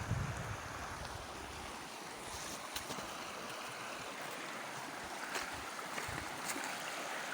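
A river flows past a village in a steady broadband rush of water, continuous and fairly near, with a few faint clicks and knocks on top.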